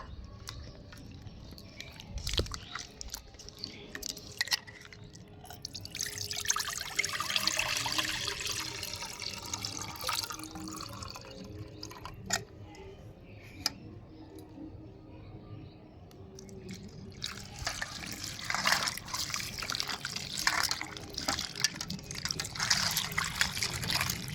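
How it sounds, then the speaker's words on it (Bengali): Mangoes that have soaked for ten minutes are rinsed and scrubbed by hand in water, a steady close splashing and trickling with louder bursts of sloshing partway through and again toward the end, no talking. "এবার আমি এই আমটাকে ভালো করে ধুয়ে পরিষ্কার করে নেব"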